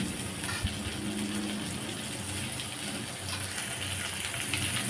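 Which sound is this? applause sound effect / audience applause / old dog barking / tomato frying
tomato frying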